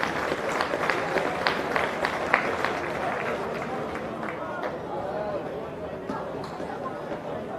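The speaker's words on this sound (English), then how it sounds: "Give these guys a round of applause" An audience at a youth championships presentation ceremony applauds the national coaches. The clapping is steady and moderately loud, with crowd chatter and murmuring mixed in throughout.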